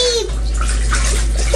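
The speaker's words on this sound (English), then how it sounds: "She wanted to go back in the bath, so she's back in the bath." A young girl splashes in bath water, a close, continuous wash of sloshing and dripping, with a voice heard briefly at the start.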